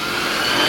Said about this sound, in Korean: 로봇 청소기가 자동으로 집 전체를 청소하면서